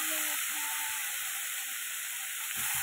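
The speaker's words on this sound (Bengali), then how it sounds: "এটাকে একটু লাল করে ভাজবো" Home-grown cauliflower florets fry in a wok, giving a soft, steady sizzle and hiss throughout at low level, with faint clinks near the end.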